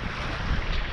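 Strong wind roars across the microphone aboard a small mini sailboat on a gusty sea, a steady loud broadband rush with faint water wash beneath and no voices.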